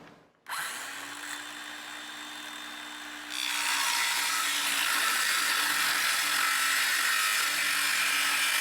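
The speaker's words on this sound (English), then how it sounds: "a circular saw will do just fine" A circular saw cuts across an oak board: a steady motor whine first, then a louder, harsher buzzing roar as the blade bites into the wood and keeps cutting, close and continuous.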